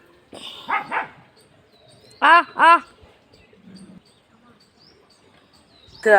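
Dogs outdoors at a rural home bark in short pairs of sharp, fairly close barks separated by quiet gaps, with faint background sounds in between.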